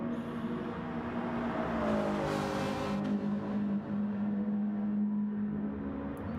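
A Ferrari race car engine in a racing video game holds a loud, steady high-revving drone with a clear tonal whine, sustained throughout without talk.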